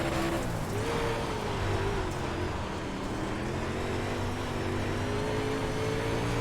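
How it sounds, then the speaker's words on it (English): Tires of a UMP modified race car spin and slide on a worn, slick dirt track at Williams Grove in iRacing, a steady rough engine drone with a faint rising whine and no voices. "it sounds like I'm just spinning the tires down the straightaway"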